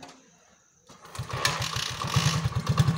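A motorcycle is kicked or cranked over and catches, settling into a steady, loud idle with a rapid low rhythmic chug after a brief quiet start.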